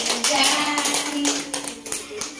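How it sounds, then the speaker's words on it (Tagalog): Family and guests clap together at an elderly woman's 75th birthday celebration, a dense burst of hand claps with chatter and voices mixed in throughout. "Palakpak."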